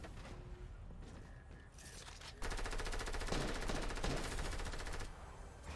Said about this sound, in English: It's a plasma cannon.